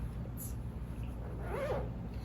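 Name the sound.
zipper of a boxy zipper pouch being opened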